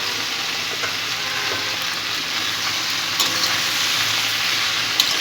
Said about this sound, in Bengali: মূলো শাক ভাজানো খুব ভালো লাগে